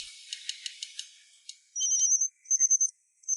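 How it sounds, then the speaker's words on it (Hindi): A high electronic phone ringtone plays in repeated bursts after a few short clicks, fairly loud and with no voices. "कौन फोन कर रहा है?"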